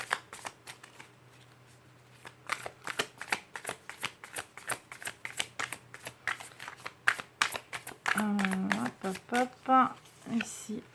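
Tarot cards riffled and shuffled by hand in a series of quick, crisp bursts, with a voice speaking over the later part.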